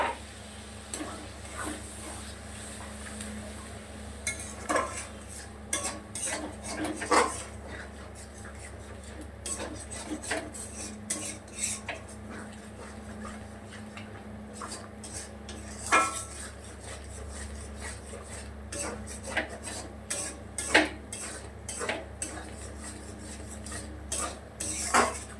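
Metal utensils scrape and clatter against a pan while spice masala is stirred and fried for vegetarian aloo dum, with irregular clinks and knocks over a low steady hum and faint background voices.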